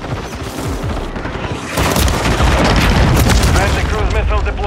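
A cruise missile launch and blast in Call of Duty Modern Warfare 3 multiplayer: a loud booming explosion swells midway into a sustained rumbling roar, with game voice chatter over the top.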